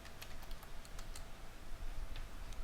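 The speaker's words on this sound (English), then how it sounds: "just go ahead and type your password to encrypt the file" Password being typed on a computer keyboard during a database server setup: faint, scattered key clicks in an uneven rhythm over a steady background hum, with no talking.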